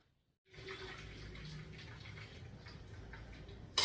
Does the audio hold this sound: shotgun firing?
no